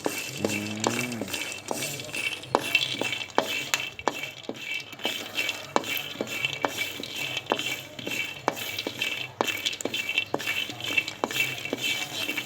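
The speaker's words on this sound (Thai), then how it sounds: "นี่เราคั่วให้ดูเป็นตัวอย่างนะครับ" Wild almonds (krabok) being roasted and stirred in a pan, with steady clinks and rattling taps of nuts against metal throughout, close and even, and a brief short voice near the start.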